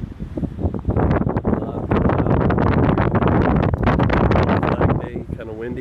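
Steady wind buffeting the microphone while fishing outdoors at Pensacola, a loud continuous rumble and roar throughout, with a voice talking over it.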